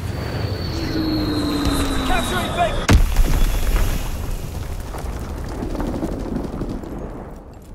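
Bomb blasts in Call of Duty WWII, one sharp heavy explosion cutting across a descending whistle and a rumbling battlefield, followed by a long booming roar that slowly fades, with game voice callouts mixed in.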